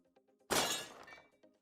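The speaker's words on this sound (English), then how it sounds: "I also made a pane of glass, which breaks into a lot of pieces if you collide with it." A single loud burst of breaking glass, a pane smashing into many pieces in a Unity indie game, crashes in close and decays over about half a second amid faint ticking sounds.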